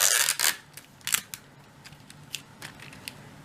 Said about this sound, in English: then I can trim off the excess